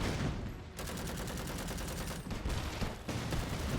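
Artillery and gunfire in the video game Iron Harvest, a dense continuous barrage of rapid shots and blasts with brief dips, loud and close, with no talk.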